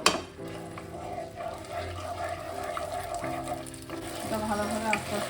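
Poppy seed paste thinned with water, frying gently in a pan, giving a steady low sizzle with occasional stirring scrapes and utensil clinks, close up and without talk.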